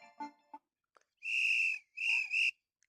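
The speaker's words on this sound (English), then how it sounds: "Whistle." A whistle ringtone on an Infinix Smart 10 phone sounds as two sustained, clear whistled tones, the second breaking briefly in the middle, preceded by a few soft clicks.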